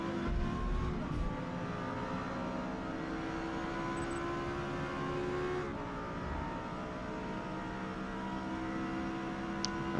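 A Lexus LFA race car engine at Silverstone in the Forza Motorsport video game, a steady sustained high-pitched drone at constant revs with layered engine harmonics, held at full throttle along a straight.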